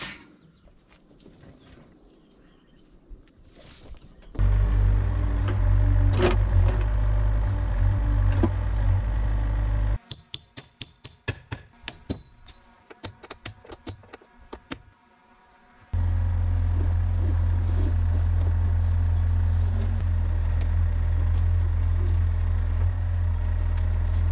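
A dump truck with a failing clutch runs at a job site while a 500-gallon underground propane tank is being installed. Its engine drones loudly in two sustained stretches with a heavy low hum, broken by quieter clattering gaps.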